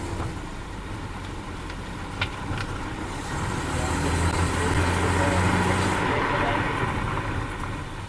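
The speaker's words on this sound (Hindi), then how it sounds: "ये जी मैं इसको गाड़ी को थोड़ी सी स्पीड दूँगा, रेस दूँगा, फिर उसके बाद ब्रेक लगाएंगे" Honda Civic revved and then braked, a steady car engine hum that rises in level midway and eases off, with a couple of faint clicks, after a brake repair.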